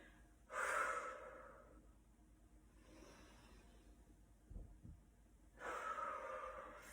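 Heavy breaths during a full-body warm-up of squats: two loud, rushing breaths open and close the stretch, with a softer one between, close up and with no talking.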